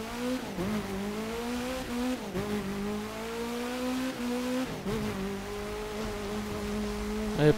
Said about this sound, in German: permanent im Begrenzer reinknattern ist halt auch nicht nice